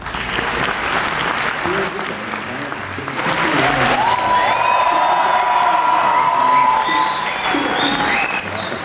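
A large audience at a games festival in Cannes applauds and cheers as a clap-meter vote, steady loud clapping swelling midway with shouts and whistles, a voice faintly audible beneath.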